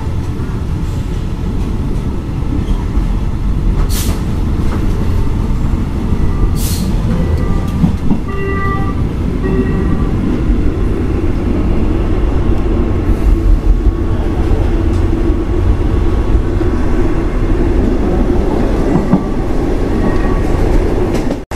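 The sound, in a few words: train passing a level crossing in Thailand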